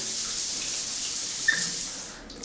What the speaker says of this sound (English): We have a nice shower head, and the water flow is also great.